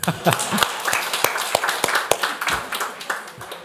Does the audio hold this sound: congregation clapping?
yes